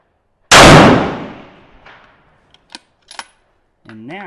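A rifle fires a single loud, sharp shot at an outdoor target range, with a long decaying echo rolling away over about a second, followed by faint clicks, small knocks and the start of a voice.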